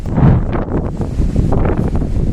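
Strong gusty wind buffets the microphone on the Kanyakumari coast of southern India, a loud broadband roar that surges and eases with constant low rumble throughout, no voices.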